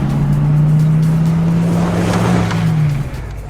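A car engine hums loud and close as a shiny car pulls up, a steady low drone that holds then eases off near the end as it comes to a stop.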